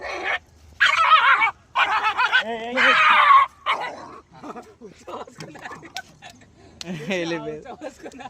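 A dog barks and yelps in several short bursts nearby, mixed with people talking.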